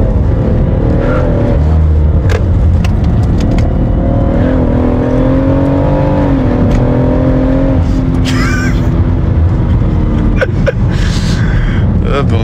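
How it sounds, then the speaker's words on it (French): A 600-horsepower BMW M5 engine drones and revs loudly from inside the car, its pitch climbing and falling through the gears while occupants talk over it. "le moteur il est incroyable"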